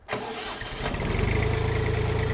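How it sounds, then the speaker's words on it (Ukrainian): The diesel engine of a Jinma 244 tractor cranks briefly, catches, and settles into a steady, loud chugging idle close by. "Все, трактор запустився, пускаємо щеплення."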